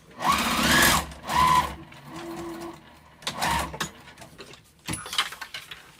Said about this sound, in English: Now I'm going to start sewing here and just go all the way around and leave this open at the bottom.